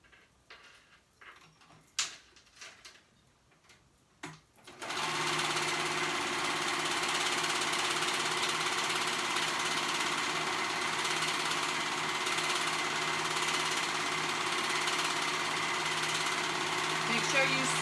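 A sewing machine stitches the raw edge of a tunic in one long, steady whirring run that starts after a few seconds of quiet handling clicks and continues evenly to the end.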